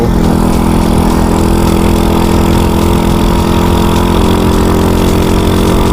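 A customized pink Honda Dream motorcycle engine drones steadily and loudly while being ridden, a constant close rumble with no pauses and no voices.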